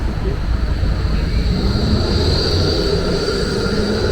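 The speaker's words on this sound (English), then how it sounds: "There goes the tram." A Melbourne tram rumbles past on the street, a loud steady roll of wheels and motor with a faint high whine running through it.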